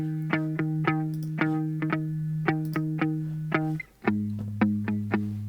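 Plucked electric guitar notes with a wide, shimmering chorus-like stereo effect from a Logic guitar preset, played in a steady rhythmic riff, shifting to a lower note near the end.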